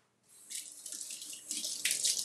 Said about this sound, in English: Let me rinse these off.